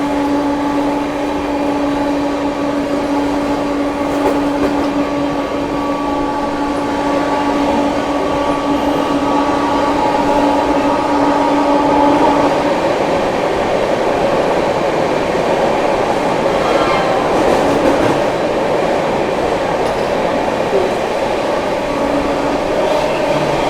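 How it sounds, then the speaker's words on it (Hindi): The 12301 Howrah Rajdhani train runs at speed past the Magadh Express near Tundla Junction, giving a loud, steady rushing roar of wheels and carriage rumble with faint rhythmic clatter and sustained tonal hum throughout. "ट्रेन अपनी टूंडला जंक्शन स्किप करने जा रही है और ओवरटेक भी कर रहे हैं हम लोग साथ के साथ।"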